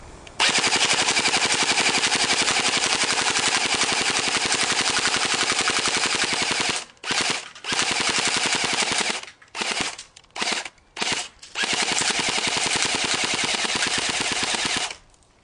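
Sustained rapid-fire buzzing of a battery-powered M1A1 Thompson toy submachine gun from about 20 feet away, loud and continuous, with several short bursts broken by brief pauses near the end as the battery dies.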